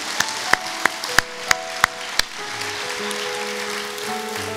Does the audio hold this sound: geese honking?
no